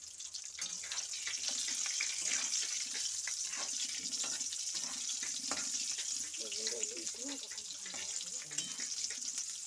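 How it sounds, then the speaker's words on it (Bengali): Eggplant pieces fry lightly in oil with a bubbling, crackling sizzle that runs throughout, punctuated by clinks of a utensil and a brief faint voice in the background near the end. "হালকা করে বেগুন কটাকে ভেজে নেওয়া হবে"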